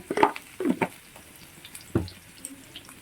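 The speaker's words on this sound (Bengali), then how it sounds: "একটু লবণ দিলাম দিয়ে ভালো করে লাল লাল করে ভেজে নেব" Potatoes frying in oil with turmeric and salt for a mutton curry: a few close scraping stirs and clatters over a faint, low sizzle, with no talking.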